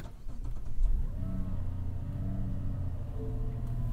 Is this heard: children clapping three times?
no